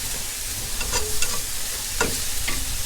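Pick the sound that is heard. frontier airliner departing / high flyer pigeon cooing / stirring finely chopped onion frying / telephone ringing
stirring finely chopped onion frying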